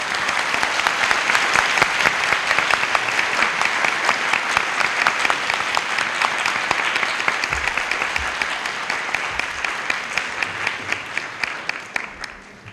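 Audience applauding competition teams after the final-round stage of a physics tournament: sustained, dense clapping from a large crowd, steady and loud for the whole stretch before tapering slightly at the end.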